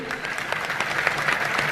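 Audience clapping at a religious discourse: soft, fairly thin applause with a steady patter of many hands, continuous and not very loud.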